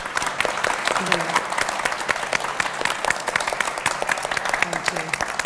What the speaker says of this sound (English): Can we also give a round of applause?